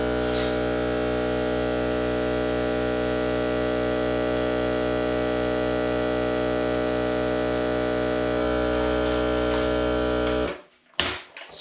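A vacuum sealer packing food gives a steady, loud electric motor hum with a constant tone for about ten seconds, then cuts off abruptly with a few faint clicks.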